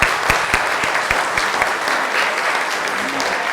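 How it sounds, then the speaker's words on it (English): An audience claps steadily and loudly throughout, a dense continuous applause with a few sharper claps standing out. "Can I get a round of applause?"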